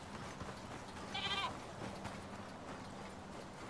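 A goat in the Icarus survival game gives a single short bleat near the middle, fairly clear above a low steady ambient background, with no one talking.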